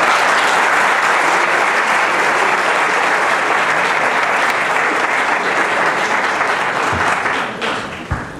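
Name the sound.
audience applause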